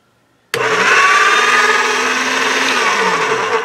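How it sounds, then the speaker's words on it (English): A motorized pasta machine set to number 5 mixes polymer clay. After half a second of silence it starts abruptly into a loud, steady whirring motor drone that holds unbroken to the end. "I thought I'd made a mistake by leaving the pasta machine in the number 5 place, but you know, it seems to be mixing it pretty well"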